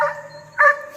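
A big dog named Ricky in a kennel yard gives two short barks, loud and close, the second one sharper, with near silence between them.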